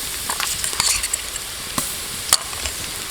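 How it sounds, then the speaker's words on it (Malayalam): Garlic paste sautéing in a pan with green chillies for a beetroot chicken roast, a soft steady sizzle with a few sharp spoon scrapes, near and without talk. "പച്ചമുളക് ഇതിനകത്ത് അത്യാവശ്യം നന്നായിട്ട് വഴറ്റിയെടുത്തിട്ട് നമുക്ക് ജിഞ്ചർ പേസ്റ്റും ഗാർലിക് പേസ്റ്റും ആഡ് ചെയ്ത് കൊടുക്കാം."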